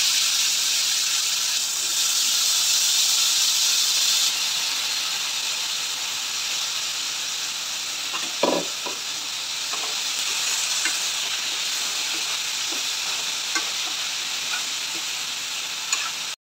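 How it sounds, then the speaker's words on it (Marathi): Chopped eggplant and potato pieces go into a pan of sizzling masala and get stirred, making a loud, continuous frying hiss close by, with a scrape and thud partway through and occasional light clicks. "मसाल्यामध्ये आपण आता वांगे आणि बटाटे बारीक करून चिरून घेतले होते ते टाकून देऊया।"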